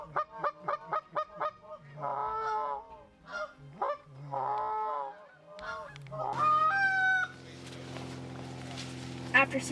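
Geese near a hunting blind on a youth waterfowl hunt sound a quick run of loud, regular honks, then longer gabbling calls at close range, with voices and a bright whistling tone toward the end.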